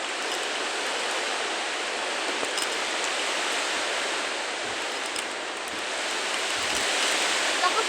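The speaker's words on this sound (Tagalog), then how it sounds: "lakas ng ulan guys, hindi niyo ako marinig." Heavy rain pours down in a dense, unbroken roar that stays loud and even throughout, with no other sounds standing out.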